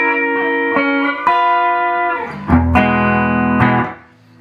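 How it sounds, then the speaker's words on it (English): Epiphone Slasher electric guitar played through a distortion effect: a few crunchy chord stabs, then a thick, sustained distorted chord ringing loudly before cutting off, with no talking. "This is distortion."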